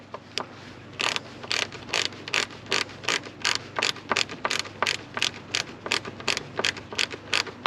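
A small screwdriver working a screw on a Ford Fiesta headlamp, producing a steady series of sharp ratcheting clicks in even bursts, close and fairly loud with no talk.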